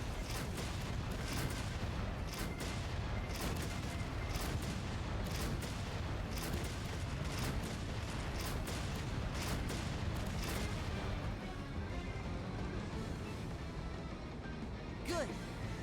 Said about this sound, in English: You can fire as fast as you can pull the levers.